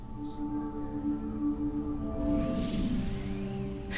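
An intro template sound effect for HitFilm Express: sustained tonal drones swell, then a whooshing sweep rises and ends in a bright, short zing, with no talking over it.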